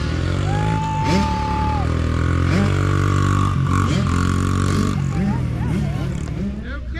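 Mini dirt bike engines drone and rev at a cross-country race, loud and close beneath excited shouting from spectators.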